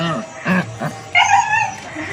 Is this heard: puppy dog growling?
yes